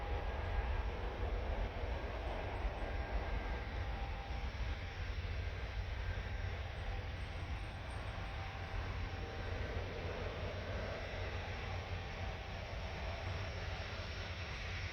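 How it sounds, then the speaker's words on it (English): An Air France Airbus A320 roars on its takeoff run at Paris Orly airport, a loud, steady jet-engine rumble that holds without a break, with no talk over it. "Wow, you can hear the engine roaring."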